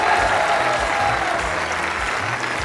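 Studio audience applauding steadily during a battle round of a televised singing talent competition, a dense wash of clapping sustained throughout with no speech over it.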